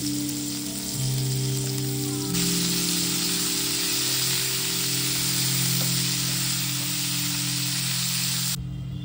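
Vegetables fry in hot oil with a steady, loud sizzle that swells and holds bright, with a faint low hum underneath and no talking.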